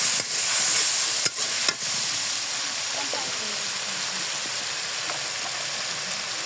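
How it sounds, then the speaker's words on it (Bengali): A turmeric and cumin spice paste is stir-fried in a pan for a prawn curry, giving a steady hissing sizzle with a couple of quick utensil clinks near the start. "এখন আমি মশলাটা ভালোভাবে কষিয়ে নেব।"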